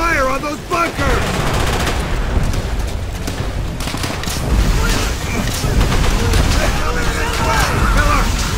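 Rapid machine-gun fire and booming blasts rattle through a Call of Duty WWII assault on bunkers, a dense, continuous barrage with shouting voices over the din.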